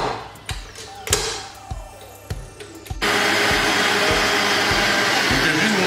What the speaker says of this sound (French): Pour l'instant, je vais juste monter mes blancs.